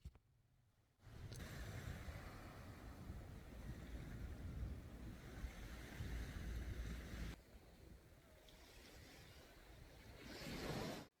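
Calm ocean waves at a quiet, lesser-known beach in Hoi An, Vietnam, a steady rushing surf with gusty wind noise on the microphone, dropping briefly before swelling again near the end.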